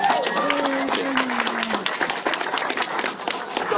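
An audience at an interview event gives a round of applause, dense steady clapping mixed with a few cheers while someone speaks over the start.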